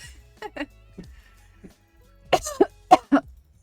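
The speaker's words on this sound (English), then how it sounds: "Еще один раз, покашляем погромче." Forced coughing by a person deliberately coughing loudly on request, a few short coughs spaced apart followed by a louder cluster of four sharp, close coughs.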